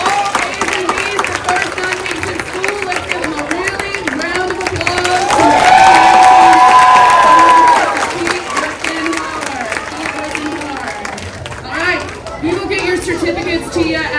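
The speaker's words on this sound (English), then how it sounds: "Let's give them a really round of applause." An elementary school crowd of children and adults breaks into loud applause and cheering for students who earned A's and B's. The clapping swells and then fades while a voice talks over the crowd noise.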